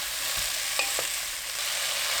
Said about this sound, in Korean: 냄비에 식용유 2큰술, 썰어둔 야채 넣고 센 불로 3분 볶습니다